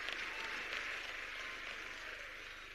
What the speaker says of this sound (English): please give a huge round of applause for Pooja Tiwari